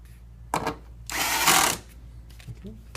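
A power tool drives screws on a laptop's motherboard in a cross pattern, giving a short burst, then a longer buzzing whir, then a faint brief blip in a quiet room.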